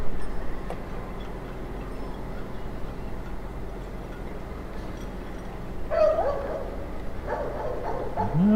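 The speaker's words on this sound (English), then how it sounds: "No, it's a dog, not a horn." A dog barking at a Southampton cruise ship departure, a few faint short barks and yips over quiet harbor ambience, mostly toward the end.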